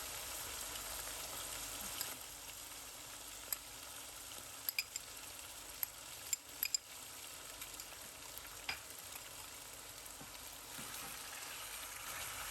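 Chicken and cumin frying in a karahi give off a steady, even sizzle throughout, with a few brief clicks and scrapes from stirring over the constant hiss; no voices.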